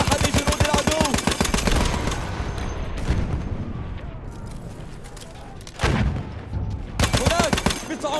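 Enemy machine gun fire in a Battlefield 1 Conquest assault match: dense, rapid bursts crackle at the start and again near the end, with a noisy battlefield rumble and scattered shots in between.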